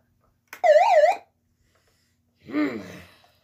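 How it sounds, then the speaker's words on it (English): Siren alarm from an Eton FR-300 emergency radio, two short bursts: a loud warbling wail lasting about half a second, then after a pause a second, quieter wavering tone, with silence around them. "Can't change the volume on the siren."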